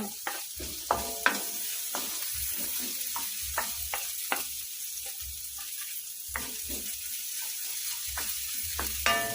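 Ginger and onion sautéed in a pan for chicken adobo, with a soft steady sizzle and repeated scraping and clinking strokes of a spoon stirring, close by and without talk.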